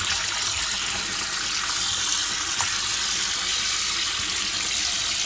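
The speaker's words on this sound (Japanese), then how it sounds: "まずこいつらを洗わなきゃいけないんだった" Running water from a kitchen tap washes oden ingredients such as octopus, crab and daikon, a loud, steady hiss of flow that continues without pause.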